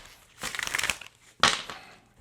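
Tarot cards being shuffled: two bursts of crinkly, papery shuffling close by, a longer riffle followed by a shorter, sharper one, with quiet pauses between.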